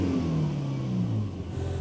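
Mercedes-AMG GT Black Series engine, warmed to 75 degrees oil temperature, revving briefly: a steady mid-pitched engine note that rises then dips and settles, heard close with no talking.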